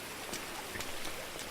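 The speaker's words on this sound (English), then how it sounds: "that rain and the storm and the lightning and thunder was incredibly loud" Steady rain falling in the video game GTA San Andreas, a soft continuous hiss of drops on surfaces, even and moderately quiet throughout with no voices.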